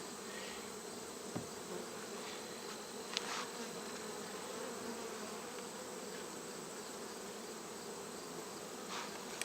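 Honeybees buzz around 2-frame mating nucs outdoors in a steady, low, continuous hum, fairly faint, with occasional louder individual bees passing close.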